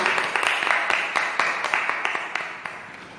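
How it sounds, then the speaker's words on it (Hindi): A church congregation claps loudly during a Hindi prayer service, a dense run of overlapping handclaps sustained for a few seconds with sharper individual claps standing out. "तो आइए वचन में जाने से पहले हम जोरदार तालियों से परमेश्वर का स्वागत करते हैं।"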